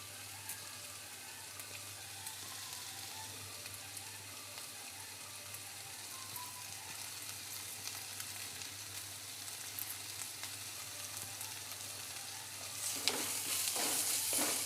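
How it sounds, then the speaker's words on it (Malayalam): Onions and curry leaves sauté in a pan for a Kerala prawn roast, a soft continuous hiss and crackle that stays fairly faint and steady, growing busier with stirring clatter near the end, no voices. "ഇനി നമുക്കൊന്ന് വഴറ്റി കൊടുക്കാം."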